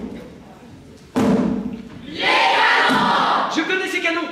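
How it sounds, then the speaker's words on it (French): Cannon fire in a pirate film: a sudden heavy boom, followed about a second later by a second blast that rolls into crashing debris and a shouting crowd, loud and close, with voices over the top. "Je connais ces canons, c'est le Black Pearl."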